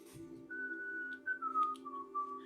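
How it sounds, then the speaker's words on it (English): A person whistles a steady, wavering tune, the notes sliding slightly downward, close and fairly clear over a low background hum, alone without talk. "Are you trying to whistle?"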